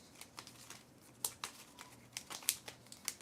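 Quick papery riffles and sharp snaps come in a loose, irregular burst, close and fairly quiet, as cards are shuffled for a Marvel United Megaverse board game.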